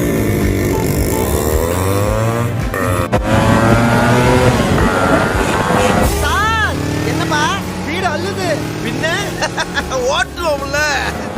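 A Yamaha RX 135 motorcycle engine runs steadily and then pulls away on a mileage test, its pitch rising and falling as it accelerates, with voices talking over it.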